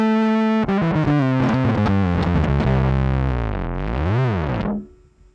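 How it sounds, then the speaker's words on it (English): A bass guitar played through a distortion pedal with a volume boost, a loud, gritty, buzzing run of notes with a pitch bend and warble near the end before cutting off abruptly, heard alone. "I have almost the same thing, except I have a volume boost on it, in case I ever wanted to do like a crazy distorted lead"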